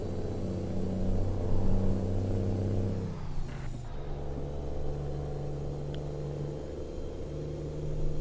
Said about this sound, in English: And that turbo whine's always fun.